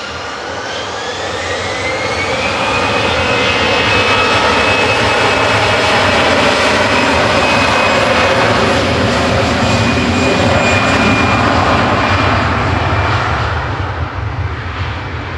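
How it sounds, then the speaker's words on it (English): A six-year-old Airbus A320 at Manchester Airport spooling up its jet engines slightly unevenly for takeoff, a loud, steadily building roar with rising whine tones that swells and holds close by. "there was a slight asymmetric spool up"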